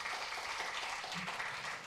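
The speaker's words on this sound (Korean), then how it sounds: "가야금 연주한 오정희님께 뜨거운 박수 다시 한번 부탁드립니다" Audience applause at a Korean Christian charity concert in May 2023, following a gayageum performance: a steady, diffuse wash of many hands clapping at a moderate distance, even and continuous throughout, with no talk over it.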